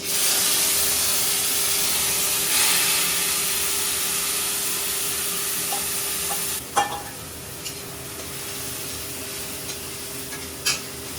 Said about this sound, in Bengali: এবার দেবো ওই মশলাটা, এবার ছ্যাঁচা করে উঠবে